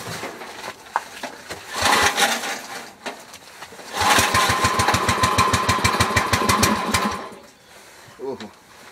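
A 1968 Sears Suburban garden tractor engine cold-starts: a brief cranking burst, a pause, then it catches and runs with a rapid, rough chugging rhythm for about three seconds before cutting out, close by, with a voice speaking briefly.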